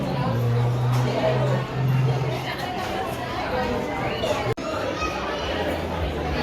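A large crowd chatters at a busy fair, steady dense babble with children's voices close by, a low musical hum running underneath and a brief dropout near the end.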